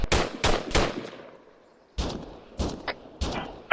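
Rapid gunfire rings out during squad training in sharp, loud shot clusters: three quick reports with a ringing tail, a gap, then several more spaced shots, close and with no voices.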